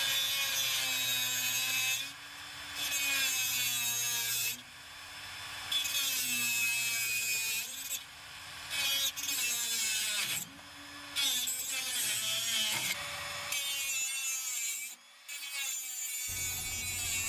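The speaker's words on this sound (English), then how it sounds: "decided to hack through them with an oscillating tool" Heavy-duty cutoff wheel on an oscillating tool hacking through steel transmission cooler lines on a Ford F-150, a loud continuous grinding buzz broken by short pauses and restarts, close up with no talking.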